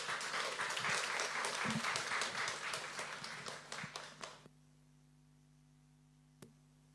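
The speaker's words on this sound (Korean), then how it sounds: "우리 목사님 나오실 때 큰 박수로 환영해 주시면 감사하겠습니다." A church congregation at a Sunday service in Ho Chi Minh City gives loud, sustained applause to welcome a pastor, the dense clapping fading out after about four seconds into a quiet room with a low electrical hum.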